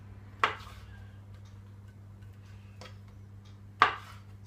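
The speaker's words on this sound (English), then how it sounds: "we'll get our 3 sausages out. I'm going to cut these in half" Two sharp knife chops through sausages on a board, spaced a few seconds apart, close and crisp over a low steady kitchen hum, with quiet rustling between cuts.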